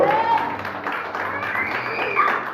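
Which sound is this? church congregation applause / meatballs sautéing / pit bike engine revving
church congregation applause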